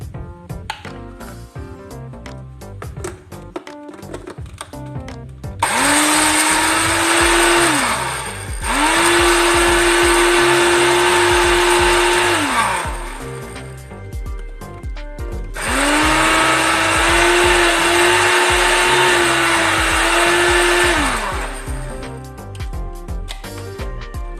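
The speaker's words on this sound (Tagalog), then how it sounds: "So i-blender po natin siya ngayon guys para maging powder." A blender grinding oatmeal into powder whirs loudly in two long bursts, its motor pitch rising as it grinds, with a short pause between runs.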